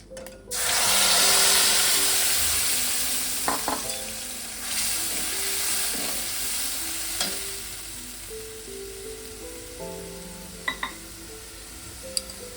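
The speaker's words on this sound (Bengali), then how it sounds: "এবার আমি কড়াইতে এই তেলে আমি মশলাটা সব দিয়ে দেবো" Spice paste hits hot oil in a kadai with a loud burst of sizzling, then keeps frying steadily while a utensil scrapes and stirs, with a few sharp clinks near the end.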